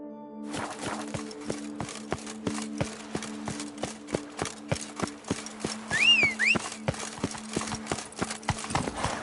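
A horse in The Witcher 3: Blood and Wine trots at a steady clip-clop rhythm, evenly spaced hoofbeats close up, with a brief whinny partway through.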